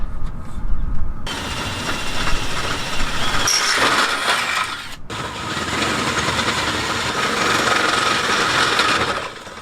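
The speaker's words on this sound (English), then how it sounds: "now let's drill through these" A power drill grinds steadily through metal, loud and close, with a brief pause midway before the whine resumes for several seconds.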